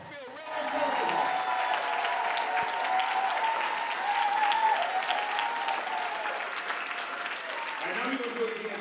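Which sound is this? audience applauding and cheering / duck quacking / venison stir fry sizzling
audience applauding and cheering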